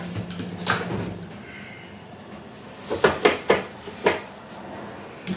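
Several sharp knocks and thuds in quick succession, like a door opening and shutting with items shifting, in a quiet room with no talking.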